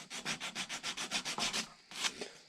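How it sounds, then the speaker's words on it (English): Polishing the tip of a handmade powder horn produces a quick series of about a dozen even, rhythmic rubbing strokes, close and fairly soft, then a short pause and a few more strokes, with no talking. "the next thing you want to do is polish the tip up a bit"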